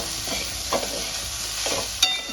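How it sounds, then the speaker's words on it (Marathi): Okra stir-fried in a pan for a dry Maharashtrian bhendi bhaji gives a soft, steady sizzle, with a few faint scraping stir strokes and a brief clink near the end. "आता अजून एकदा व्यवस्थित अशी आपण भेंडी परतून घ्यायची"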